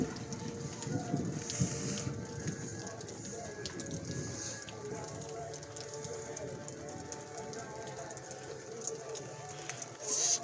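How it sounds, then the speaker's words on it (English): Rain from a thunderstorm patters and splashes outdoors in a steady wash of water noise, fairly soft, with some louder splashy bursts early on and a sharp noise at the very end. "it's raining, and it's raining, it's storming, and Riley wants to go play in the rain."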